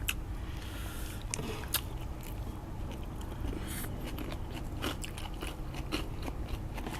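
Crispy pork cracklings crunched between the teeth and chewed at close range, a steady run of crackly bites and mastication served alongside a spicy Thai salad.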